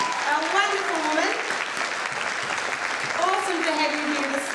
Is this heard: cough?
no